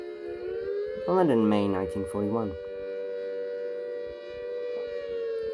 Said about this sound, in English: I hear air raid sirens.